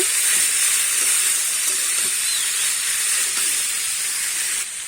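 Chopped banana stem stirred in a hot pan gives a loud, steady steamy hiss that dominates throughout, with faint scraping underneath and no voices.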